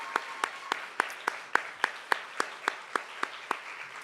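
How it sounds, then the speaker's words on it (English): Rhythmic unison clapping at a Capture the Flag event program, roughly fourteen evenly spaced claps in steady tempo over a soft background crowd. "Can we all please give them a big round of applause?"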